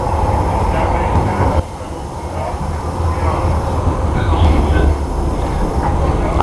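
An Amsterdam line 9 tram runs with a steady rail rumble and low rolling drone. There is a brief dip in level partway through, and the noise stays loud and close throughout.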